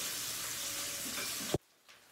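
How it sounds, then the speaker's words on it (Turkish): Chopped onions sizzle in hot oil in a pot over medium heat, a steady broadband frying hiss for about a second and a half that cuts off abruptly into near silence, with no speech. "Soğanımız kavrulmaya başladı."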